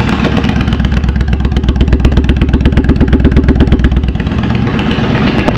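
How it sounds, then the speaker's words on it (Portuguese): A Honda Shadow motorcycle engine idles with a deep, steady, throaty rumble, loud and close with rapid regular firing pulses throughout, no talking over it. "Olha, ó, o Shadão aí, ó, roncando grosso, tio."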